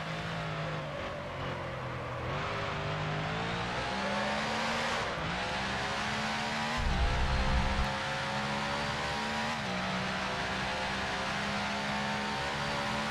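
A 1955 Lancia D50 Grand Prix car races in a simulator, its engine note rising and dropping through gear changes at a steady, moderate volume, with a brief low rumble partway through.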